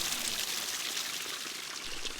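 Spring-fed creek water pours out of a roadside culvert, a steady broadband rush with bright splashing that holds level throughout and no voices.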